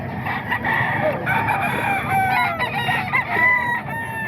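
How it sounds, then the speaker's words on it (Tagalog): Roosters crow repeatedly among clucking fowl at a Filipino chicken sale, several calls overlapping close by against a steady background of other birds. "Ang gaganda ng manok na to mga boss."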